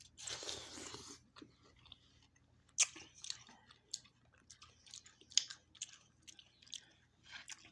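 Crunchy chewing and biting on food, close and quiet, in irregular bursts with soft squishy mouth sounds between bites.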